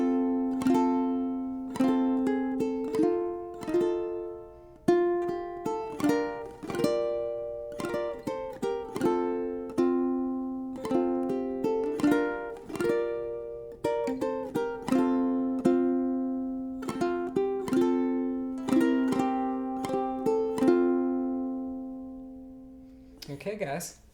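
Ukulele plucking the A melody of a song, a beginner arrangement from pickup measure through eight bars, with clear picked notes and strummed chords in a steady rhythm, close and alone.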